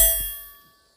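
A single sharp metallic ding of a bullet striking a steel target, loud at the start and ringing out over about a second, with no talk.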